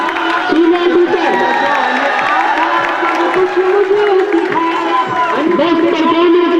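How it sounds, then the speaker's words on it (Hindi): An audience of boys at a high school farewell party cheers, shouts and applauds a teacher's award, a dense, loud wash of crowd noise with a voice carrying over it. "भरपूर तालियां।"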